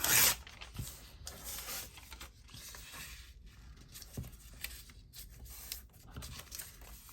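Craft paper torn by hand while using up paper scraps, a sharp ripping burst at the start followed by soft rustling and handling of the sheets, close by and fairly quiet.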